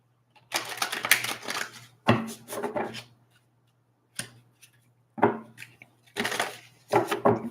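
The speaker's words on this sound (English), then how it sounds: "So I can shuffle these up really good." A deck of cards being shuffled up close, several quick riffling bursts of crisp fluttering clicks separated by short pauses, with a faint steady hum underneath.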